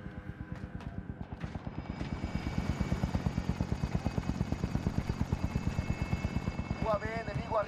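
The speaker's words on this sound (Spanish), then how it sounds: "Helicóptero en posición." A helicopter in the video game Warzone thumps with a steady, rapid rotor beat that grows louder as it approaches, with a brief voice near the end.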